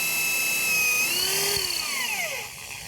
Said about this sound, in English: I've come to the conclusion that here is going to be the perfect spot to drill a hole